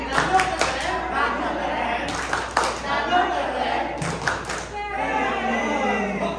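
A group at a school teacher-training session performs a call-and-response clap chant, with short bursts of sharp hand claps between spoken and chanted lines from adults nearby.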